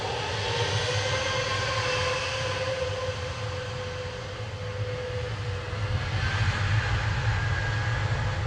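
An Airbus A320neo jet at Manchester Airport gives a steady, close engine roar with a low rumble and a faint tonal whine running throughout, with no talk.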